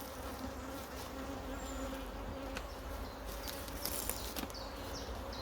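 A honey bee swarm hums around spare stacked hive boxes with drawn comb, giving a dense, continuous buzz with a few louder individual bees passing close by.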